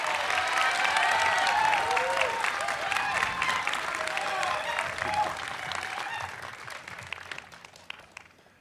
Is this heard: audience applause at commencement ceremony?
yes